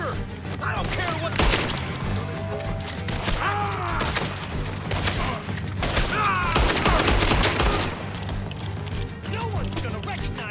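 Gunfire in Red Dead Redemption II at a farmhouse, dense bursts of rapid shots and thuds over about ten seconds, with shouting voices under the shooting.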